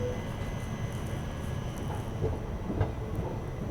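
Steady rumble and rattle of the Mussoorie Express passenger train departing Pilkhuwa station, heard from inside an ICF first-class AC coach, with faint clicks and squeaks over continuous low-frequency noise.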